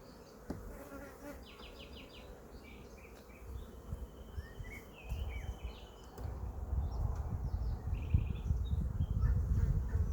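Honeybees and drones buzz densely around a beehive frame, a close continuous drone with louder passes, building in volume toward the end, with faint bird calls in the background.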